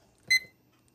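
A kitchen timer gives a single short, bright electronic beep as it is started during fudge making, clear against an otherwise quiet background with no talking.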